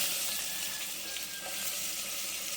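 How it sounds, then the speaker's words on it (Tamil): Curry leaves and chopped onions frying in hot oil for a brinjal buttermilk curry, giving a steady, even sizzle close by throughout with no talking. "இப்போ கறிவேப்பிலை, வெங்காயம் போட்டுக்கலாம்."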